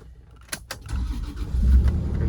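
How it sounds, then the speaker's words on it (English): A modern Toyota car engine cranks and catches after two short clicks, settling into a steady low idle that swells slightly louder near the end, with no talking over it. "start the car, and then you'll feel immediately you're in a modern Toyota"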